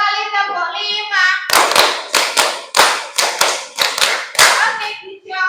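A group of children clap in rhythm, sharp loud hand claps in two rounds of five, following a stretch of sung or chanted voice at the start.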